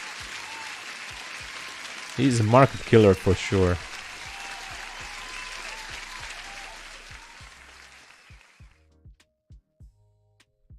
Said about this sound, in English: everyone, huge applause for top 5